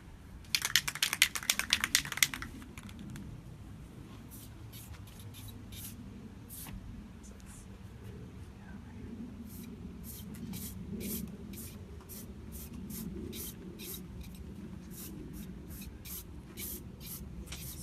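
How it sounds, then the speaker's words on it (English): A can of black spray paint hisses in a short, loud burst of several quick sprays onto a costume, followed by faint clicks and handling noises over a low background rumble. "I am basically going to make this on that with black spray paint."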